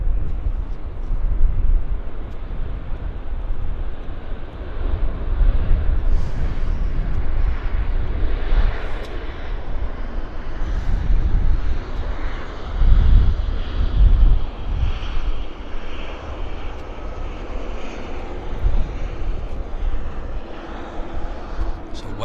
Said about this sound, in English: It's an Air Canada 737 MAX.